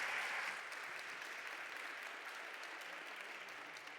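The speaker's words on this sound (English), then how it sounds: "Give him a round of applause." An audience claps steadily, a dense wash of applause that starts strongest and holds at an even level throughout.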